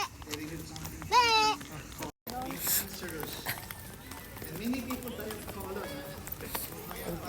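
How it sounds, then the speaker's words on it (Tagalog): Goats bleat in short quavering calls outdoors, one loud wavering cry early and fainter bleats later, mixed with hoof clatter and frequent nearby talking. "Kambing daw, kambing"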